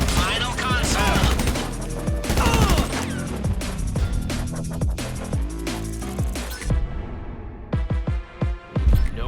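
Rapid rifle gunfire in the video game GTA Online, with dense bursts of shots and sharp impacts over a music-like backdrop, loud and close, thinning into scattered single shots near the end.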